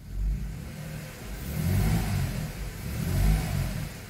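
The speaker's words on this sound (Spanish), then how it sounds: "el carro se siente que está trabajando a todo dar" A Mercedes-Benz car engine with a cylinder misfire fault runs hard and revs, a steady mid-pitched rumble swelling and easing in waves, fairly close and alone.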